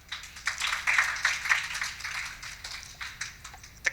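An audience clapping at a Mother's Day painting competition event, a soft, moderately dense patter of hands with uneven peaks, fairly faint and without voices.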